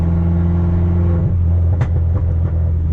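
A built big-turbo Mini engine runs steadily at about 2,000 RPM in normal mode, a loud, close, continuous drone with a slight wavering pitch change partway through and no talking.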